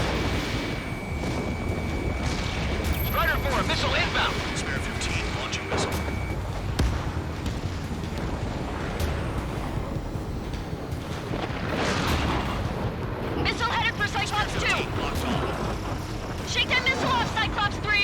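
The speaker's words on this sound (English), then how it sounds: "Spare 15 launching missile." Ace Combat 7 missile launch among dense in-game jet combat, a whooshing burst set in continuous roaring engine and explosion noise, with radio chatter running over it throughout.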